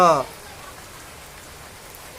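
Steady morning rain in a village, a dense even hiss that continues alone after a brief voice at the very start.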